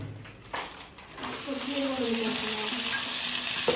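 Green chillies, cabbage, carrot, tomato pieces and onion hit hot ghee in a pan for bagara rice, bursting into a loud, steady sizzle and hiss after a few soft stirring knocks.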